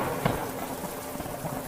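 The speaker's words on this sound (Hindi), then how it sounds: "जोरों से बिजली कड़कने लगती है और तेज बारिश होने लगती है।" Steady heavy rain hisses throughout a Hindi horror cartoon night scene, with a brief low rumble of thunder near the start; no speech.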